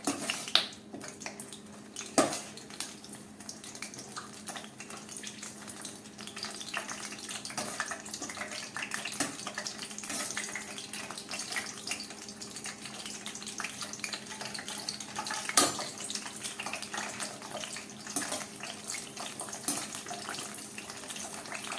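Green chillies fry in hot oil while being stirred and turned, giving a steady close sizzle with occasional clinks of a utensil against the pan.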